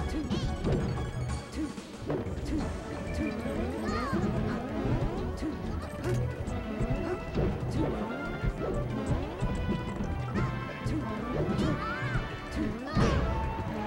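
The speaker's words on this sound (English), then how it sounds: "Good forward smash from Kimidori." A forward smash lands during a Super Smash Bros. Melee tournament match between Ice Climbers and Sheik, a sharp hit buried in a dense stream of game effects, music and impacts while commentators talk throughout.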